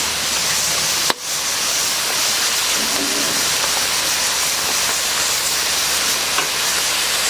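Lomo saltado sizzles in a hot pan as it is stirred, a steady frying hiss running throughout with one sharp clack of a utensil near the start.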